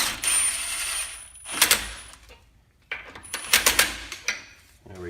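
Lug nuts being snugged down to hold a rear brake rotor on a 2002-2010 Ford Explorer, heard as two bursts of close metallic clicking and ratcheting separated by a short pause.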